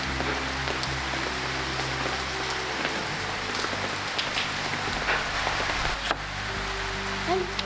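Steady rain patters on surfaces at the start of the rainy season, a dense even hiss with scattered drips and taps, continuous throughout with no voices.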